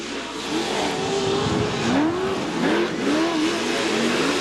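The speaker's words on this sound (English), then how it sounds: "Out of turn 7, Scott Douglas has the lead and the white flag." PRO4 off-road race trucks roar around a track at a 2008 Chula Vista round, their engines droning and rising in overlapping revving sweeps, loud and steady with no talk.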